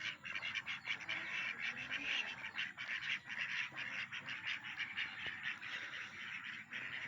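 Native ducks quacking in a farmyard pen before feeding, a rapid run of raspy nasal quacks close by, nearly continuous for the whole stretch, with a quiet voice underneath.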